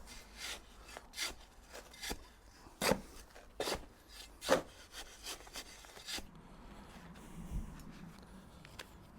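Sand and refractory concrete ingredients for a pizza oven are mixed by hand, heard as close, irregular gritty scraping and rubbing strokes that come in bursts, then settle into a softer, quieter shuffling near the end.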